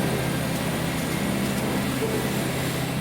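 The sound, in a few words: old Japanese train engine straining on uphill climb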